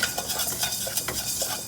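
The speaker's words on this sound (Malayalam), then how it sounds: "അപ്പോൾ ഉലുവ ഇട്ട് കൊടുത്തിട്ട് നന്നായിട്ടൊന്ന് ഇളക്കി കൊടുക്കാം." Fenugreek seeds stirred in hot oil in a pan while making a Kerala mango pickle: quick, close scraping and clinking of a spoon against the pan over a soft sizzle, with no talking.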